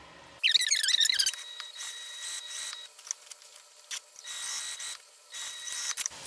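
A sewing machine stitching a fabric hip bag with right sides together runs in several short whirring bursts with a steady high mechanical whine, separated by brief pauses, heard close and alone.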